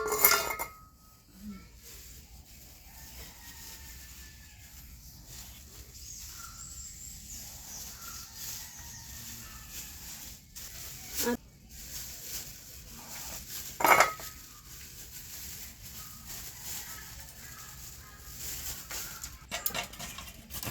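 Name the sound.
chopping bottle gourd with a knife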